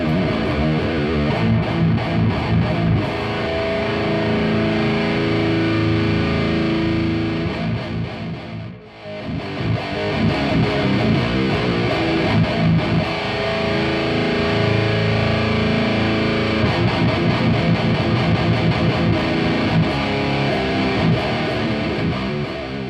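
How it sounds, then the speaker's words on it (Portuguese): Heavily distorted, compressed audio effect, thicker and more saturated than overdrive, plays as a loud dense wall of sound almost throughout, with one brief dip near the middle. "Distortion. É a distorção mais pesada, mais comprimida que o overdrive."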